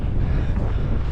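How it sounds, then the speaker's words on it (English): Strong gusting wind buffets the microphone on exposed, snowy winter hills, a loud continuous low roar with no break across the whole stretch. "It is proper windy, as always."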